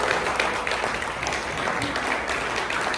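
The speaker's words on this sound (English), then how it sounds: "Give her a round of applause for the good work she's doing." An audience claps together in a dense, continuous round of applause that lasts the whole stretch at steady volume, with no voices standing out.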